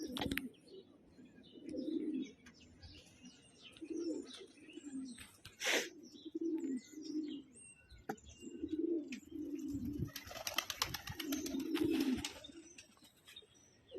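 Pakistani breed pigeons coo repeatedly in low, throaty bursts, with occasional wing flaps and brief rustling as birds take off, fairly close and continuous throughout.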